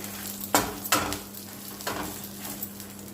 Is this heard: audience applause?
no